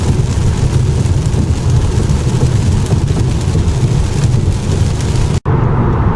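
Steady broadband roar of rain and road noise inside a moving 2015 Chrysler 200S, loud and continuous, with low rumble underneath and a brief cut near the end.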